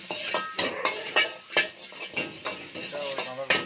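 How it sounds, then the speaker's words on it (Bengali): Raw chicken sautéing with ginger and garlic gives a soft sizzle under rhythmic spatula scrapes and clanks against the pan, repeated roughly every half second, close and moderately loud. "কাঁচা চিকেনটাকে এবারে একটু জিঞ্জার গার্লিক দিয়ে সতে করে নেব।"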